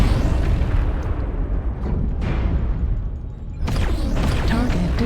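A mech blows up in the MechWarrior Online battle game, a loud sustained booming blast with crackling debris that dips briefly and then surges again over continuous battle noise.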